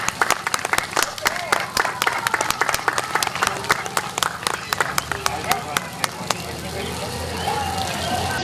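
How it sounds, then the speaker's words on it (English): An audience at a folk school drumming event gives panelists a loud, sustained round of applause, dense clapping throughout that thins slightly toward the end, with voices mixed in. "Let's give a big round of applause for our panelists one more time."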